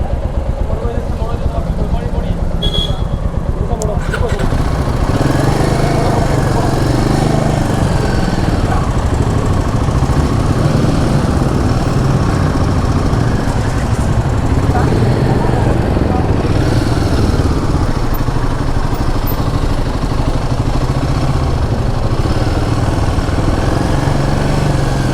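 A motorcycle engine runs with a loud, steady rumble while queued at a border crossing on a ride from Guwahati to Bhutan, with voices talking over it.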